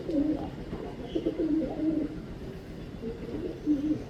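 Pigeons coo in soft, repeated low phrases at a moderate distance, steady over faint background noise, with no talking.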